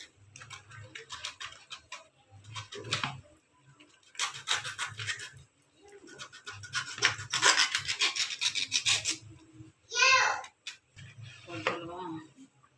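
Kendai fish is cut into pieces for a fish curry, heard as close, rasping scraping strokes in rhythmic bursts separated by short pauses, with a brief voice-like sound near the end.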